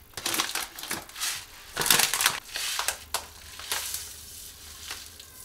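Organic flax seeds spooned into a pot land in a series of close, gritty rattling pours and scrapes, several bursts spread across a few seconds with no talk.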